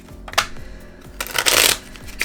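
A deck of playing cards is shuffled at a game night, with two quick riffling bursts and the crisp flutter of cards, close and loud.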